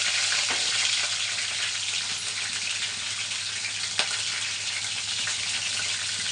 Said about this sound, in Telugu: ఇందులో జీలకర్ర ఆవాలు వేసుకున్నాను అలాగే పచ్చిమిర్చి